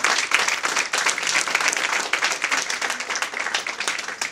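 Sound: church congregation applauding

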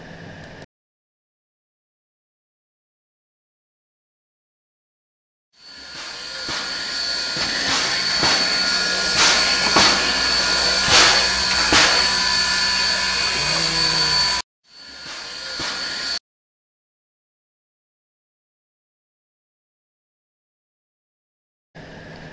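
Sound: recorded steam locomotive idling

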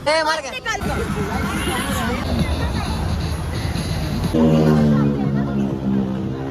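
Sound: crowd hubbub at a busy spot on a Goa trip

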